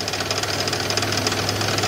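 A car engine with rod knock on the passenger side toward the back, running with a steady, rapid metallic knocking over a loud continuous engine drone, recorded close up with no talk.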